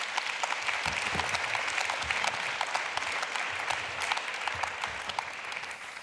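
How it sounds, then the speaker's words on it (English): An audience at a panel debate on the future of Europe applauds the speakers with sustained, dense clapping that holds evenly for several seconds before tapering slightly, heard from within the room. "This is your applause."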